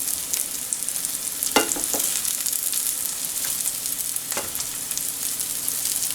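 Ground beef patties sizzle alongside golden onions in a skillet, a loud continuous frying hiss with a couple of sharp pops and scraping stirs.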